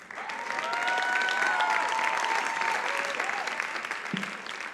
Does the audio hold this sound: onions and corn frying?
no